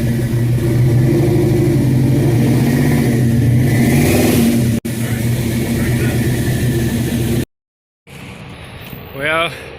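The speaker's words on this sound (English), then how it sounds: "Here's what we're using to test it. A twin turbo Chevelle." A twin-turbo Chevelle running rich on a dyno roars loudly with a steady, sustained engine drone and rising harmonics, briefly cut out, then returning fainter with a rising whine near the end.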